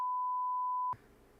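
A steady pure-tone censor beep sounds once, clean and loud, holding for just under a second before it cuts off abruptly into quiet room noise.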